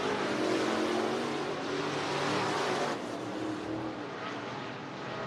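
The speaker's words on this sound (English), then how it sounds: "Two laps remaining here for the first IMCA Sport Mod presented by Royalty Corps Heat Race" IMCA Sport Mod race cars roar around the dirt oval at Cottage Grove Speedway during a heat race, a loud, steady engine drone that eases slightly after three seconds, with no voices.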